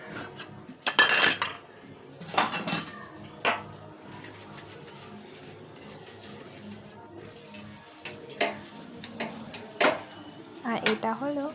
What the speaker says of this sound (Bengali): আর এটা হলো সেই ননস্টিক কড়াইয়ের ঢাকা, এটাকেও পরিষ্কার করে নিচ্ছি আমি